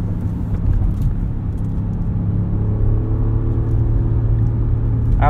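A 2022 Audi SQ7 in manual mode pulls hard up an entrance ramp, its engine a steady low rumble with a rising whir heard from inside the cabin, continuous and fairly loud throughout.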